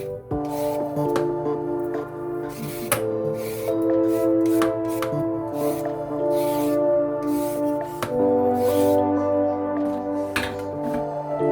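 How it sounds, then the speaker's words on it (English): Repeated scraping strokes of a vegetable peeler along large carrots, rhythmic and close, over a steady background of musical tones. "Here I'm just scraping my carrots with my vegetable peeler."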